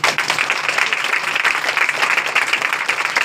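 Steady applause from a church congregation during a Hindi-language Sunday service, a dense wash of clapping hands lasting a few seconds with no talk over it.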